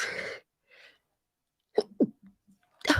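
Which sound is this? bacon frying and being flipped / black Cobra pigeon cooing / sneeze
sneeze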